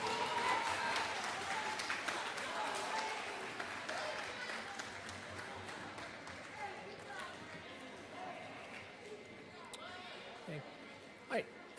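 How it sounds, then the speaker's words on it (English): A school awards ceremony audience applauds eighth grade award winners, the clapping faint and distant, strongest at first and gradually thinning out beneath murmured chatter. "Let's give a big round of applause to our 8th grade award winners"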